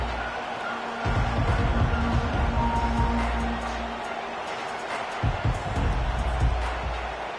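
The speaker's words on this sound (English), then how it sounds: "This crowd bringing an ear-splitting welcome to their visitors." Stadium crowd at a Texas versus Georgia college football game, a dense sustained roar that swells and stays loud, under a commentator's voice.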